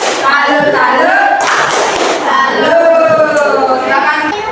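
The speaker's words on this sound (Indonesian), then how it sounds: "beri tepuk salut untuk kelompok A" An Indonesian elementary class claps and chants a rhythmic salute cheer for a presenting group, with several voices calling out together over bursts of hand claps.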